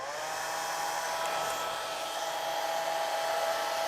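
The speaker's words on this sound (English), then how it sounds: "So I'm going to take my hair dryer" A hair dryer blows continuously while drying a watercolor painting, a steady whooshing hum with a high motor whine, close and loud, unchanging for the whole stretch.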